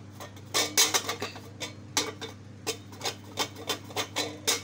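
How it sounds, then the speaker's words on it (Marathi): Oil is rubbed into an idli pan with an onion stuck on a spoon, making a quick series of close metallic scrapes and light clinks in an uneven rhythm with no talking. "आता मी कांद्याने असं तेल लावत आहे"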